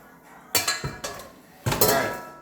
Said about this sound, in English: give me a moment to really get out as much of this batter as I can, or this cookie dough rather